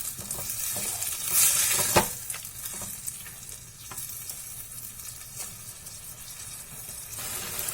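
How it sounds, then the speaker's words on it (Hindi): Steady sizzling of tomatoes frying in a pan, with intermittent scraping and stirring clatter, close and moderately loud, no voices. "और इसे चला लेंगे और टमाटर को भूनने देते हैं।"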